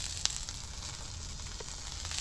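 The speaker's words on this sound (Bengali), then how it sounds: "সব সবজি ভাজা হচ্ছে।" Brinjal and tomato pieces fry in a pan with a soft, steady sizzle that stays faint and continuous, broken by one brief sharp tick near the start.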